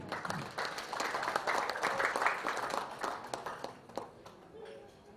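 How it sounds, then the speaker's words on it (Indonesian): An audience at the i-Bot PRO soft launch applauds Bapak Rusdi, clapping that swells over the first few seconds and then tapers off, with voices mixed in near the end. "beri tepuk tangan buat Bapak Rusdi."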